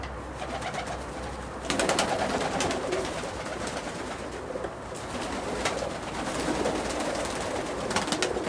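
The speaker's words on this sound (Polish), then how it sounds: "to są gołębie już naprawdę wysokie klasy." Russian Statnyje pigeons of the Omsk and Siberian breeds coo softly among rhododendrons and azaleas, a steady low murmur with faint bursts of wing noise and bird activity.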